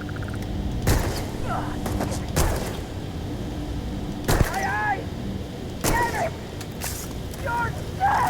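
Shots from the Solstice and Ember weapons in the sci-fi game Starfield: several punchy bursts spaced a second or two apart, each trailed by brief ringing or whooshing effects over a low background hum.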